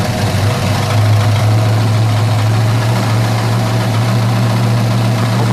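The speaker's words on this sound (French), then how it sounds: "les poussoirs bougent assez rapidement, et là, on est au ralenti." A classic car engine idles steadily with its pushrods and rocker arms moving quickly, giving a loud, close, continuous low rumble with a fine mechanical ticking over it.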